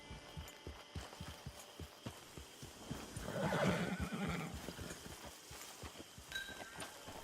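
A horse in the Red Dead Online video game neighs loudly at mid-clip, with steady clip-clopping hooves running throughout and no voices.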